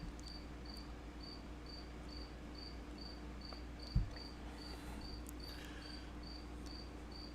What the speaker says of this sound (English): Because I hear a cricket in where I am, and it's like so annoying.